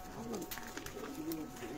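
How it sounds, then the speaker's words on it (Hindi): Old pigeons coo softly on a rooftop, a faint, low repeated cooing heard at a distance with a voice murmuring nearby. "बहुत पुराने कबूतर हैं ये"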